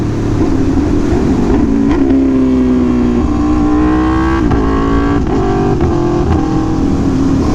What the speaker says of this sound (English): it enables you to downshift without using the clutch or blipping the throttle at all, like this